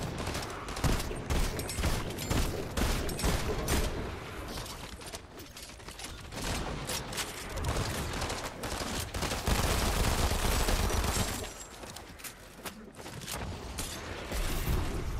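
A shotgun fires repeatedly in Fortnite amid a dense barrage of gunfire, with sharp, loud reports coming in rapid irregular bursts and a brief quieter lull near the end.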